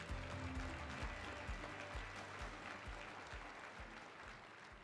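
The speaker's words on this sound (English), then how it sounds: "Let's give all these states one more round of applause." Audience round of applause at an annual meeting leadership luncheon, a dense wash of clapping that gradually tapers, heard alone with no speech over it.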